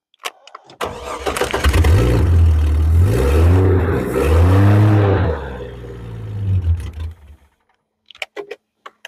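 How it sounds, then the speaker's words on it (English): An old car engine with no catalytic converter cranks and catches, then revs up and down in loud rising and falling surges before cutting out, followed by a few clanks. "See if we can keep this thing idling for a minute or whatever."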